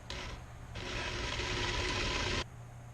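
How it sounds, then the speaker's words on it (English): A drill countersinking a hole gives a steady grinding, rasping whir that jumps louder for about 1.7 seconds, then settles back to a lower hum. "Just gonna do a little countersink."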